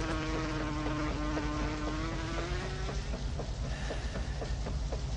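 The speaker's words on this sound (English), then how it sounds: "Even the fly was getting excited." A fly buzzes close by with a wavering drone over steady heavy rain hissing in the background.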